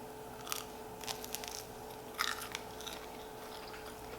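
Someone bites into a small, oddly shaped homemade Disney-style churro with a crunchy outside, giving a few close, crisp crunches followed by quieter chewing over a steady low hum.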